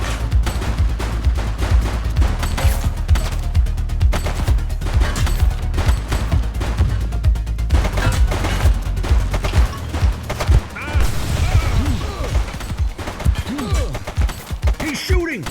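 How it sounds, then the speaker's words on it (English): Rapid, loud gunfire in the open-world police game The Precinct, volleys of shots crackling almost without pause, with sharper single cracks and echoing reports near the end. "Shots fired!"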